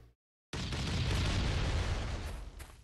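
A bomb detonates in Last Island of Survival after a brief silence, a sudden loud blast that rolls on as a sustained rumbling roar before fading.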